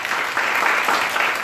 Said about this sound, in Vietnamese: chúng ta cũng dành một tràng pháo tay cho cái protein của chúng ta